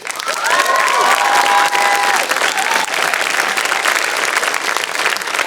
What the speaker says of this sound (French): Je vous invite à leur offrir une chaleureuse main d'applaudissements